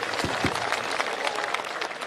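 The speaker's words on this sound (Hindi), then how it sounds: "एक बार तालियां बजा करके माहौल दे दीजिए" Audience applause at a Hindi comedy poetry gathering (hasya kavi sammelan), a dense steady patter of many hands clapping, fairly close and sustained throughout, with no talk over it.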